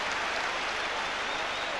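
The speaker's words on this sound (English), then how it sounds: "the Leeds crowd in full voice here, cheering even more if they can score again" A Leeds United football crowd roars steadily in a stadium, a dense, continuous wash of cheering and applause that stays loud and unbroken throughout.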